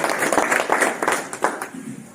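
A brief burst of applause from a small gathering at a local cow shelter event, uneven claps rising and fading over a couple of seconds.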